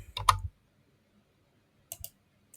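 Computer keyboard and mouse in use, a short burst of clicks, a pause, then a few more quiet taps, close and dry with no voices.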